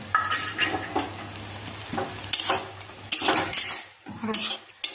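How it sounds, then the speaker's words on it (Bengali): Chutney of tomato and mango leather with jaggery is stirred in a pan: close, uneven metallic scrapes and clinks of a utensil against the pan over a soft sizzle, with no talking. "গুড় দিয়ে নাড়াচাড়া করে ঢেকে রাখবো গুড়গুলি।"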